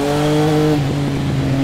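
A Triumph Speed Triple 1050 RS motorcycle with a quickshifter revs at a steady, loud pitch, then the tone shifts abruptly as a gear changes and the engine climbs again, close by with no talk.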